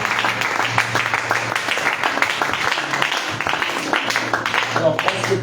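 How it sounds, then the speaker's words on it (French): A church congregation breaks into applause and cheers during a French-language worship service against witchcraft, a continuous wash of clapping under a voice speaking over the crowd. "Acclamons le Seigneur."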